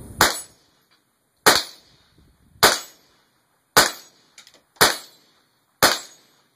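Mossberg 702 Plinkster rifle fired at close range in six sharp, loud shots about one second apart. Each crack is followed by a short decay into near silence.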